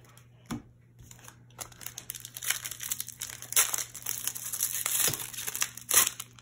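Crinkly plastic wrapper of a Dragon Ball Z card booster pack being torn and crumpled, a few sharp rips and rustles building louder toward the end, close up.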